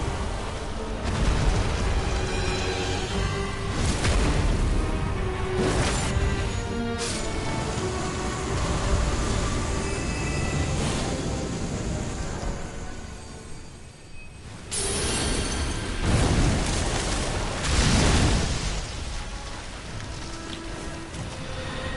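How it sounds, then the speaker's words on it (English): Heavy, continuous rumbling and booming explosions fill a boss fight in Elden Ring: Shadow of the Erdtree, loud and dense, with surges of blast noise. "Oh yeah, I forgot this is explosion."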